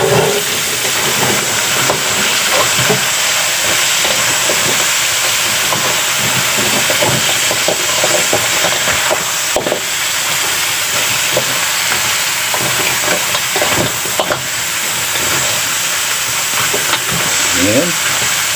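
Crab being stirred in a pan with tausi and margarine, a steady sizzle and hiss with scattered scraping stirs, close and fairly loud, with a voice speaking at times.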